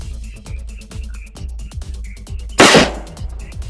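A homemade air cannon's burst disc ruptures in a single loud, sharp blast over a backdrop of rapid clicking and ticking, then fades quickly.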